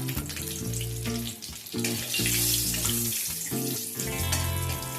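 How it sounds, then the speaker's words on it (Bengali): Black cumin seeds and slit green chillies sizzle in hot oil as a tempering for a light Bengali fish curry, a steady bright crackle over a continuous tonal musical backing. "এবার এই তেলের মধ্যে কিছুটা পরিমাণ কালো জিরে ফোড়নের জন্য দিয়ে দিলাম, আর সেই সাথে দুটো অল্প চিড়ে রাখা কাঁচা লঙ্কা দিয়ে দিলাম"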